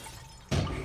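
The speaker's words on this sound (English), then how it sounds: "Oh, you broke the glass." Glass shatters in the puzzle game Quantum Conundrum, one sudden loud crash halfway through that follows a quiet background hum.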